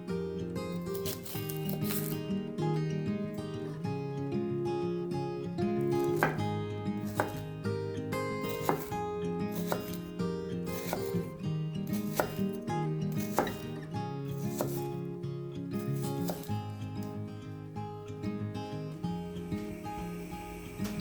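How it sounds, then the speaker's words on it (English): A knife chops shallot on a cutting board in quick, steady taps, close and clear, with a soft backing tune underneath throughout. "Chop the shallot."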